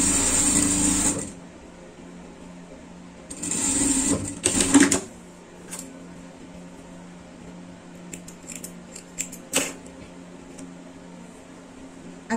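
Sewing machine topstitching ribbing on a dog's Olympic-style jacket, three bursts of fast whirring stitching, the first and second about a second long, then quiet handling with small clicks and taps.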